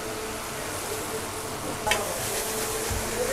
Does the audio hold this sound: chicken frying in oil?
yes